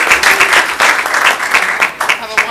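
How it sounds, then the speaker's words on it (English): An audience at a school board meeting claps for a group being honored, a short, loud, steady round of applause with individual claps standing out, with some voices mixed in. "And one last round of applause for this incredible group."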